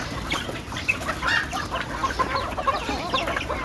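A flock of farm chickens clucks steadily as the birds are let out of their poultry shed, a busy layered chatter of overlapping clucks close by with constant background noise.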